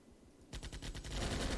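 Infantry gunfire in the Armored Brigade war game rises after a quiet start into a rapid, steady run of shots that grows louder and denser, with no voices over it.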